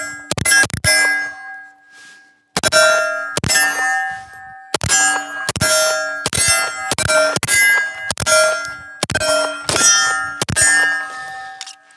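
Pistol rounds striking small A-zone steel shooting targets: two quick sharp hits, a pause, then a rapid string of about ten loud ringing metallic clangs, each ping decaying briefly before the next.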